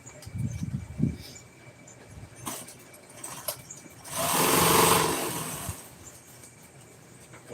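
An industrial sewing machine stitches upholstery on a 1997 Ford F-350 truck seat, a loud whirring burst of stitching for about two seconds after quieter handling noises and clicks.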